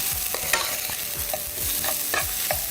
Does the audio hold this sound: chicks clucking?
no